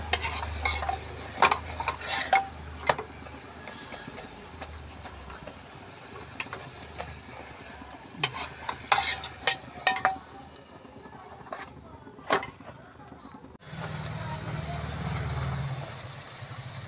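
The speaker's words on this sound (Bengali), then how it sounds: "আমি অল্প অল্প তেল দিয়ে সব কটা পরোটা ভেজে নিচ্ছি" Parathas frying in a little oil in a pan, with soft sizzling and intermittent sharp scrapes and taps of a spatula, followed near the end by a steadier low rumbling background.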